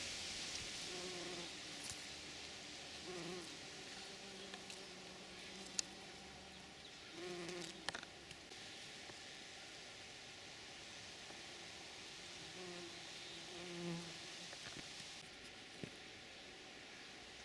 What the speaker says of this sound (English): There's a little bee there.